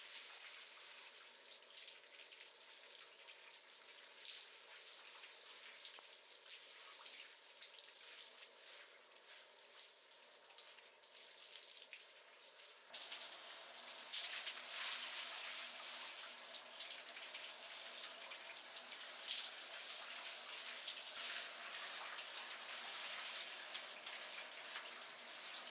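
Shower water runs continuously as the body is rinsed off, a soft, even hiss of spray that grows slightly louder and brighter partway through, with no voices.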